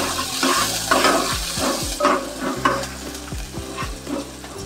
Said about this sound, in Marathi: आणि याच चमच्याने आता ढवळून घेऊया भाजी केलेली